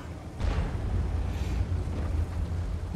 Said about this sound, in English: the artillery doesn't like me there